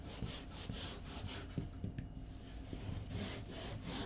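Hand tool rasping across surfboard foam while a concave is shaped, a close, steady series of rhythmic scraping strokes with no voices.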